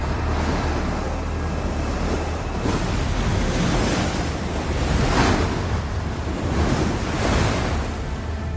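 Strong, forceful water rushes in a continuous broadband roar with surging swells and gusty wind noise, dangerously powerful flow heard up close and steady throughout, with no voices.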